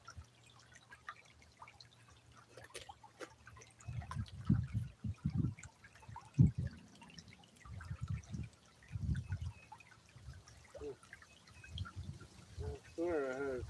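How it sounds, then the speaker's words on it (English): Water dripping and trickling from a leaking container outdoors by a creek, irregular wet drips and small splashes close by, a speaking voice heard at times over them. "That must be leaking or something."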